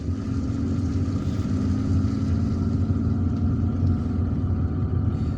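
Road traffic in Algiers rumbles steadily, heard from inside a vehicle, with a low engine drone and passing motor noise holding at an even level throughout.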